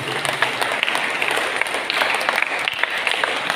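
A church congregation applauds during a Palm Sunday Mass, a full, steady wash of clapping that carries evenly from start to finish, fairly loud and reverberant.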